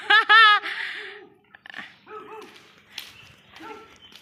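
Rescued homeless roadside dogs in Thailand bark loudly and close at first, then give several softer yips and whimpers in broken bursts, with a faint voice in between.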